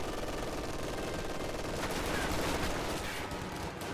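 An MG42 machine gun firing in a World War II video game, a continuous roaring stream of rapid shots mixed with other distant gunfire, steady and loud throughout.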